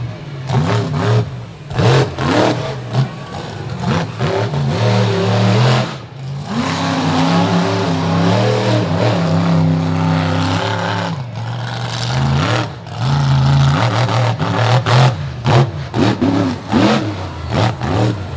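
A monster truck's engine revs hard during a freestyle run at a beach show, roaring loud and close in rising and falling surges with brief drops between bursts.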